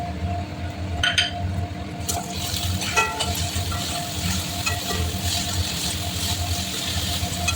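Whole spices fry in a hot pan with diced potato, sizzling steadily and close up throughout, with a few clinks and stirring scrapes near the start.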